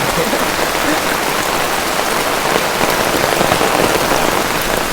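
Heavy rain pours at a temple, a dense, loud, unbroken hiss of drops striking surfaces and water with no pauses.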